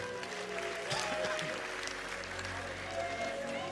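A church congregation claps in praise during worship, an even patter of many hands mixed with singing voices and music, moderately faint and continuous.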